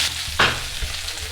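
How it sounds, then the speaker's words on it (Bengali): Potatoes dropped into hot mustard oil in a kadai, giving a steady close sizzle with a brief louder burst of spatter and a soft knock, no voices. "এখন আলুগুলো ভেজে নেব"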